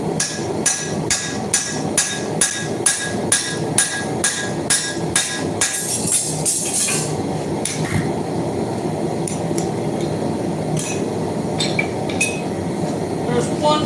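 A hammer strikes a hot steel railroad spike being forged into a tomahawk, a run of about a dozen sharp, evenly spaced metallic blows that give way to scattered lighter clinks and taps.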